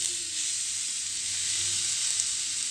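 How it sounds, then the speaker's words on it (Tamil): Grated beetroot, two medium beets, sautés in a pan for chutney, giving a soft, even sizzle and faint hiss that runs steadily throughout, with occasional light stirring and no voices. "இதை சேர்த்துட்டு நல்லா வதக்கிடுங்க. அந்த பீட்ரூட்டோட பச்சை வாசனை போகிற அளவுக்கு நம்ம வதக்கிடலாம்."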